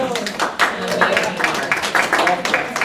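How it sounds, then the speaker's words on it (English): A small group in a budget meeting gives a short burst of clapping and applause, with scattered hand claps at moderate loudness and talk running over it throughout. "I think we need to give you guys a little round of applause."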